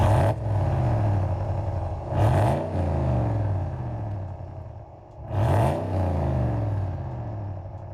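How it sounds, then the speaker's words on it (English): Hemi V8 in a 2027 Ram 1500 Lone Star revving up, with three sharp throttle blips rising over a steady deep idle rumble, loud and close. "Let's listen to the sound this Hemi V8 makes in the Ram 1500 Lone Star"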